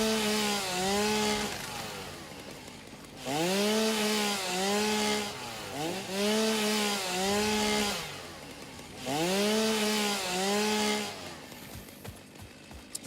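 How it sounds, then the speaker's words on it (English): A chainsaw felling trees in the video game Satisfactory revs in three long, loud whining bursts with rising and falling pitch, separated by short pauses, with no talking. "Fucking chainsaw,"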